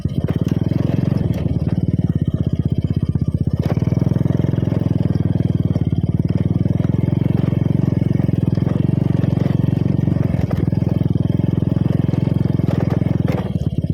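An old, worn-out motorcycle engine runs loud and close, holding a steady throbbing rumble with some rattles throughout.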